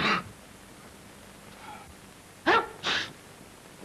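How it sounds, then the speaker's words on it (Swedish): Sneezes ring out close and forceful: a first burst, then after a pause a sharp double sneeze in quick succession, with soft breathing between and no speech. "Norra Europas bästa nysning"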